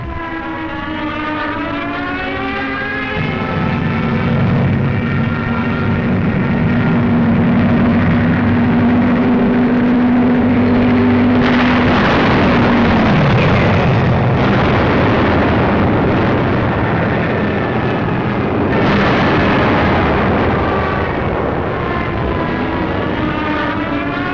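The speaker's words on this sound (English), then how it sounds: "From the skies, a bombardment to which we had no adequate answer." Aerial bombardment in a 1944 WWII documentary film: a loud, continuous roar of aircraft engines with a droning tone that sweeps downward, punctuated by heavy explosion bursts, all dense and sustained without speech.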